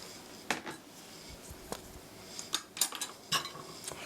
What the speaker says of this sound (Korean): 이렇게 설탕과 밀가루, 베이킹 바우더가잘 섞이도록 잘 섞어주시고요.